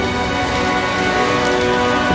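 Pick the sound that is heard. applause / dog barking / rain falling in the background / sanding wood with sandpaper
rain falling in the background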